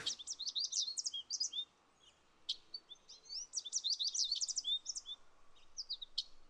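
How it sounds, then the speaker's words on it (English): Bird chirping ambience in a flight simulator, heard in a TBM 930 cockpit scene: rapid, bright tweets and trills in bursts, fairly close and clear over near silence, with a short pause partway through. "Get the birds going."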